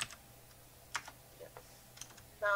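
A few scattered keystrokes click on a computer keyboard during a remote support call, sparse and quiet with short pauses between presses.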